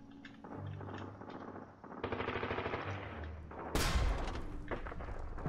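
Artillery shells and gunfire in the war video game Foxhole: quiet, rapid bursts of shots and thuds, then one sharp, sudden blast near the end.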